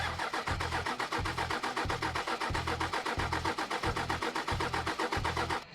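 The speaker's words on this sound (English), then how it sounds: "'80 series doesn't want to start." Toyota 80 Series with a 1HZ diesel engine cranking on a cold morning, a long run of steady rhythmic starter churns without catching, close and alone.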